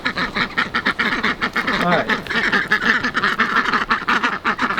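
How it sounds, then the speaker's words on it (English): A group of ducks quacks noisily nearby in rapid, overlapping bursts, with a short spoken word mixed in. "let's go over to the ducks"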